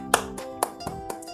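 A few sharp hand claps land at uneven intervals over a steady, bright musical tone, each clap short and moderately loud.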